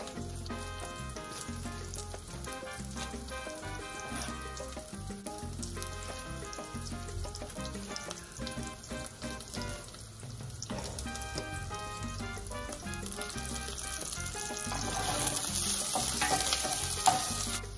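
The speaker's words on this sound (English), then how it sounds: "while the peppers are getting nice and blistered" Dried chili peppers blister and sizzle in a hot pan for enchiladas de barbacoa, a steady frying crackle with stirring scrapes that swells louder near the end, with no voices over it.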